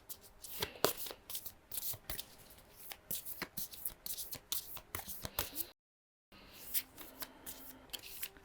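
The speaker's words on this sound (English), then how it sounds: "So I'm just going to start pulling some tarot." Tarot cards are shuffled by hand in quick, crisp riffles and slaps, close up and fairly quiet, with a brief gap before the shuffling resumes.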